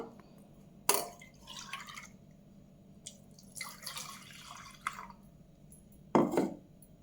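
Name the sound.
pouring and straining jaggery water for pani puri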